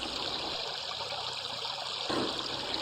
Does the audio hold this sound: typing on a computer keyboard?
no